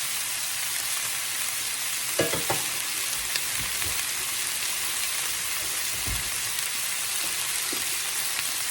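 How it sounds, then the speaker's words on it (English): Chicken pieces sear in a hot pan as a home cook prepares smothered chicken, giving a steady, dense sizzle with a few brief stirring or scraping knocks near the start and middle. "We're just wanting to get us a good sear on it."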